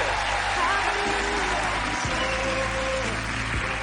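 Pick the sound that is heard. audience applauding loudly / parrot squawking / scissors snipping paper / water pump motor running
audience applauding loudly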